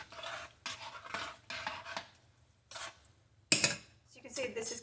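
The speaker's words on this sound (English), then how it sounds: "I'm going to stir that up for a minute." A pot being stirred on the stove as it comes to a boil, with a utensil scraping and clinking against the sides in several short bursts separated by pauses, close and moderately loud.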